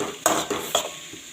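A utensil stirs curry leaves with onion and tomato in a pan: three quick scraping clinks of metal against the pan, close and fairly quiet, followed by a soft fading rustle.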